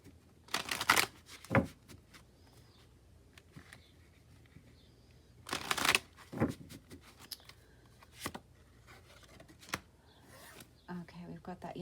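Tarot cards are shuffled in a few quick riffling bursts separated by pauses, close and crisp, with light handling sounds between.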